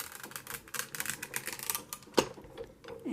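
An embossing folder sandwiched between two plates is cranked through a manual die-cutting machine, giving a close, uneven series of clicking, ratcheting ticks with one sharper knock.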